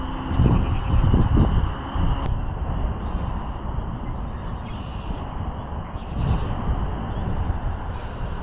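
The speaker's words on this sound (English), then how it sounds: "this wind is starting to kick up a bit," Wind gusting across a pond during late-winter fishing, buffeting the microphone in low rumbling bursts that ease into a steady breezy hiss, with faint distant bird chirps.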